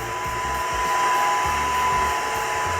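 A Eufy Mach V1 Ultra robot vacuum runs on standard suction over confetti on a rug, giving a steady, close motor whine with a high tone and low rumbling bumps.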